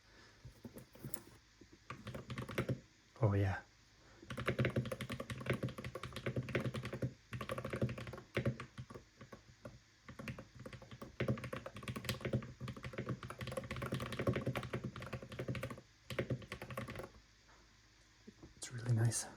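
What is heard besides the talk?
typing on LUMINKEY Magger 68 Hall effect magnetic-switch gaming keyboard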